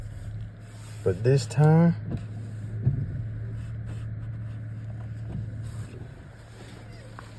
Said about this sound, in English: another POV drive, the Dodge Charger GT